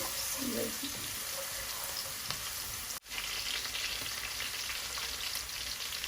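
Grated garlic sizzles in a frying pan with a faint, steady hiss. The sound briefly cuts out midway, then the same low crackle resumes.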